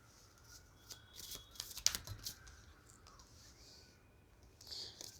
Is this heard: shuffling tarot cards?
yes